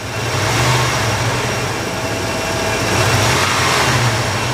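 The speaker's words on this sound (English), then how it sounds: "So see how we give it a throttle snap, so we're 34 and we're going up to 40." A 1991 Ford F150 with a 5.8L engine is revved by a sharp throttle snap. The engine roars loudly and close, holds its raised pitch and then settles back, with a constant droning hum beneath it.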